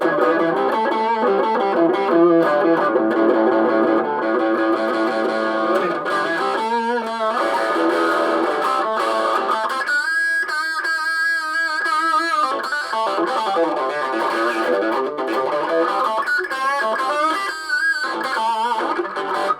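A long stretch of distorted electric guitar, with chords and riffs ringing out continuously, loud and near, a few brief choppy strums midway.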